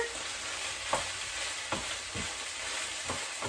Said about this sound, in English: So this will go in this pan along with the chicken. And I'm going to cook this until the vegetables start to get tender.